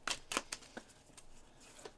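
Oracle cards being shuffled by hand, a few quick papery riffs and slaps spaced across a couple of seconds, close and soft with no talking.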